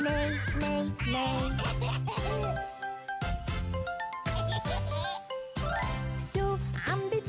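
Repeated horse neighs ring out loud and close, mixed with light jingling and bell-like tinkles, in a string of bursts with brief gaps.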